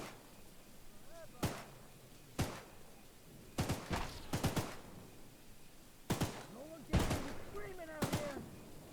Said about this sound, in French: Il tire juste sur mon train en fait.